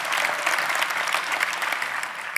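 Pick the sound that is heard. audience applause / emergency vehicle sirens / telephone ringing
audience applause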